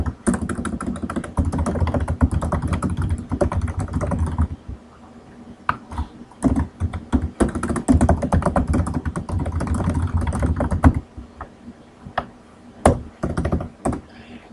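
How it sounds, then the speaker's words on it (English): Someone types a message on a computer keyboard, with dense bursts of rapid close key clacks separated by brief pauses and a few isolated taps near the end. "go to your email program, type in a message,"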